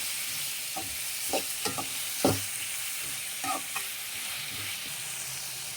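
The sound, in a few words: onions and tomatoes frying in a pan for sambar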